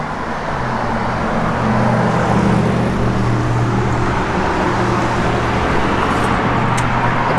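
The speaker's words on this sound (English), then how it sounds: "It's got an H-pipe Flowmaster dual exhaust on it that sounds great" A 1973 AMC Javelin with an H-pipe Flowmaster dual exhaust rumbles steadily, a loud, low and continuous engine drone that rises slightly midway, with no voices.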